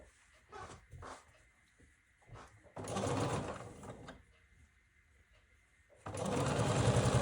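A sewing machine stitches quilt pieces together in two sustained runs of rapid mechanical whirring, with short stop-start bursts before them and quiet pauses between them.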